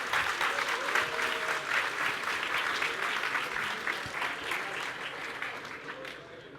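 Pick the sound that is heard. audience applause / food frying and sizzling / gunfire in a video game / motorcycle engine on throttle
audience applause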